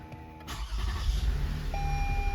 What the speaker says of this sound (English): Start your car.